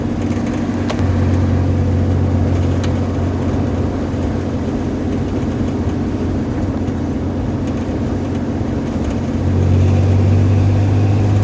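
Engine of a 1992 Chevy S10 pickup with a 2.8 and five-speed manual, heard from inside while driving: a steady, loud mid-pitched drone that shifts tone slightly near the end, with no speech.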